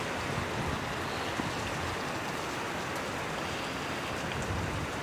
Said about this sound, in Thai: ตอนนี้ฝนและลมแรงมากเลยนะครับ